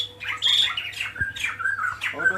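A pet bird squawks repeatedly as it begs to be hand-fed, giving several loud, harsh calls in uneven bursts close to the listener.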